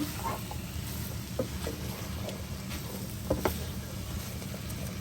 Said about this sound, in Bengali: এখন আমি এখানে ক্যাপসিকাম আর ব্রোকলি ধুয়ে রেখেছিলাম, ওগুলি দিয়ে একটু কষিয়ে নেব।